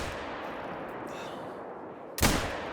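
A single handgun shot from a .243 in the hunting game theHunter: Call of the Wild cracks loud and sharp after a stretch of quiet outdoor ambience, then decays with a short rumbling tail.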